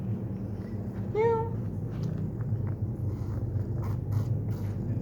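A pet cat gives a single clear rising-falling meow at close range in an indoor room, with faint shuffling and handling noises around it and no talking.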